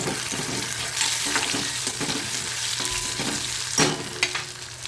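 Onion and tomato, with curry leaves, sauté in hot oil in a pan, giving a steady loud sizzle with intermittent scraping stirs of a spoon, close up and without talk.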